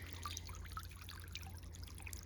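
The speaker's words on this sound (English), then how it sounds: "it feels very contemplative with the sound of the water here" A garden fountain in a Pacific Northwest cottage garden trickles and splashes steadily, soft and continuous, close by with no voices.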